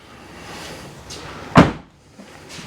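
Rear door of a Ford Bronco Black Diamond shutting with a single loud thud, preceded by faint rustling and light handling noise, then settling into quiet; no one speaks.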